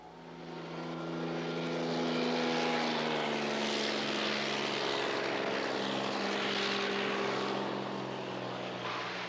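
A float plane's propeller engine drones steadily at Brooks Camp in Katmai, a loud, sustained hum with stable harmonics that swells slightly and holds for the whole stretch, with no voices over it.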